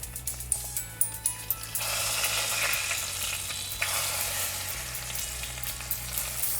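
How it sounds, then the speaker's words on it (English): Boiled eggs fry in oil in a pan, starting with a few sharp taps and clicks, then breaking into a loud, close, steady sizzle that eases back toward light ticking near the end. "I'm just going to fry this in some oil."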